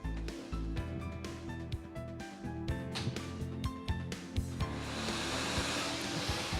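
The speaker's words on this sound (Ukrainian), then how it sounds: "Вмикаємо лототрон." An air-blower lottery drawing machine churns its balls with a constant rushing roar. Rapid irregular clacks of balls striking each other and the drum sound throughout, close and loud.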